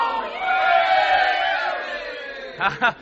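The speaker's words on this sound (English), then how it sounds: "Come on, everybody. A cheer for Tommy Marlowe." Students shout a cheer together for a classmate in a rising, sustained crowd yell, followed by two short sharp shouted bursts at the end.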